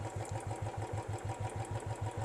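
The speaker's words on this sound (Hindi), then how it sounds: "देखिए बाइक सिर्फ और सिर्फ स्टार्ट है।" A Royal Enfield Bullet motorcycle engine idling steadily with no throttle while battery charging is being checked, an even low thumping beat of about six pulses per second, close and moderately loud, with no speech.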